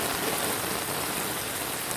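Floodwater from hours of torrential downpours rushes and drains in a steady, hissing flow, continuous and fairly close, with no voices.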